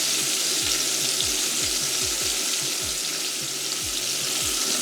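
Cubed steak fries and browns in a hot pan, giving a loud, steady sizzle with a low crackle running underneath throughout and no voices.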